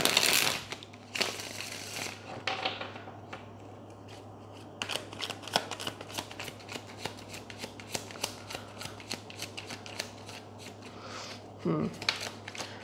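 Tarot cards being shuffled at close range, a dense run of papery riffles and flutters in bursts lasting several seconds, with a steady low hum underneath.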